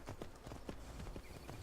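Horse hooves clip-clop steadily in a fantasy role-playing video game, a brisk repeating gait of distinct thuds over a low ambient bed, fairly close and alone without talk.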